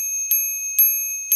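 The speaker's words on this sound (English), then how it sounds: "She got a new bell." A new bicycle bell rings three times in an even rhythm, each short bright strike over a sustained high metallic tone, close and clear with no voices.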